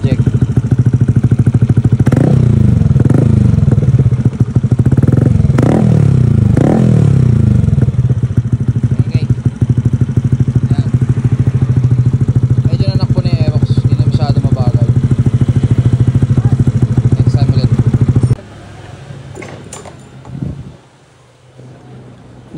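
A Yamaha Aerox scooter engine revving hard with a throaty dual-tip aftermarket exhaust, loud and close, blips rising and falling, then the idle drops off near the end.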